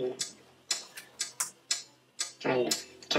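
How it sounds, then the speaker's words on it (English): A mysterious ticking noise repeats as sharp, fairly regular ticks at close range, with a person talking over the later part. "This is a mysterious ticking noise."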